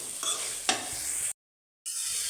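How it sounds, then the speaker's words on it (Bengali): Jackfruit seeds and vine stems fry in a pan with a close, steady sizzle and brief stirring scrapes, cut by a short moment of silence before the frying hiss resumes. "এখন লতিগুলো দিয়ে দিই। কাঁঠালের বিচিটা কষানো প্রায় হয়ে গেছে।"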